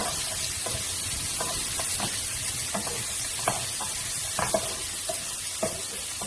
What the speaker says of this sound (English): so then I'm adding onion as well. And then just let it cook.